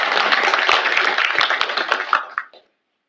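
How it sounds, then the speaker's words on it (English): Applause for students at a university business and technology undergraduate awards ceremony, a dense burst of many hands clapping at close range that thins out and stops after about two and a half seconds. "you deserve a round of applause for your accomplishments"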